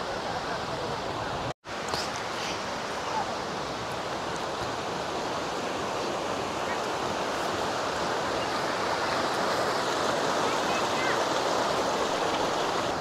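River water rushes steadily past a bridge below tall hills, a dense, loud, continuous roar with no break apart from one brief dropout near the start.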